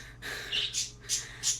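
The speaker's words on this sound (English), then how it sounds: "Now, Niko is a lovebird" A pet lovebird named Niko gives several quick, high chirps and squawks in a short burst. They are faint and close, with no talking.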